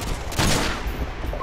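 Sustained gunfire from Call of Duty: Modern Warfare 2 game combat, a dense fusillade of overlapping shots with a louder burst midway, continuous and close throughout.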